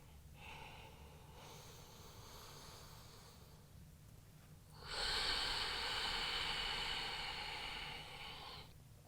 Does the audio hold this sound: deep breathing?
yes